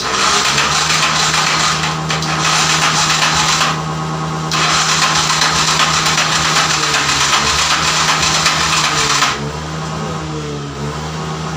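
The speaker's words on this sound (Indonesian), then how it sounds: "Mau hidup kalau pakai starter tangan doang." The engine of an old Honda Tiger trail motorcycle runs loud and close with a steady rough drone after a kick start, briefly dipping twice and then settling into a lower, uneven idle near the end.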